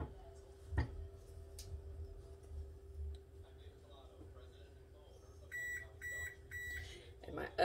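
A kitchen oven beeps three times once it has preheated to 400 degrees, the short electronic tones sounding faint over a low room hum.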